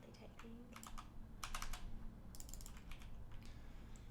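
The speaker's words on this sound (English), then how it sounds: "Just haphazardly typing." Haphazard typing on a computer keyboard, a run of quick close clicks in uneven bursts over a steady low hum, with no voices.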